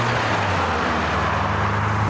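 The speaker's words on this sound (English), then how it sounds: "I think it's the first Sierra Cosworth of the day." A Ford Sierra Cosworth arriving at a car show, a steady engine and road rumble, fairly close and continuous, over a brief span.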